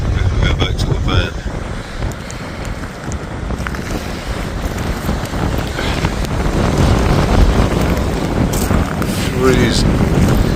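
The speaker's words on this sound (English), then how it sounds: "It's horrible out here. Windy, cold." Cold, stormy wind buffets the microphone outdoors near a parked van, a continuous loud rumbling roar that swells and gusts, with faint talk now and then.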